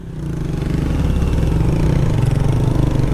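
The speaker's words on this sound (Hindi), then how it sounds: "अली भाई की बाइक के टैपेड लूज हैं इसलिए पावर तोड़ ली है ये।" A motorcycle engine with loose tappets labours up a steep hill climb, losing power. It holds a close, steady low drone with a rhythmic mechanical clatter running through it.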